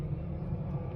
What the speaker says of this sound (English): sorry about the plane going over